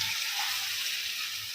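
A prepared cornflour-thickened sauce hits a hot pan of fried cauliflower for Gobi Manchurian, giving a steady, close, bright hiss of sizzling that holds evenly throughout with no voices.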